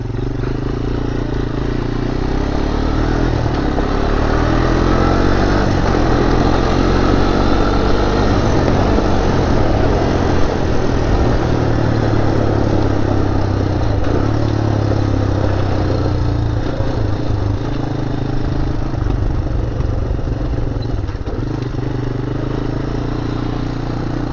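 A Honda 250EX ATV engine runs after a fresh oil change, idling loud and close in a steady, rough, clattering drone with slight shifts in revs and no pauses.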